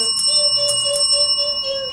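A bright electronic notification bell chimes in a sustained ringing tone, then repeats several short strikes that decay gently, loud and clean with no voices.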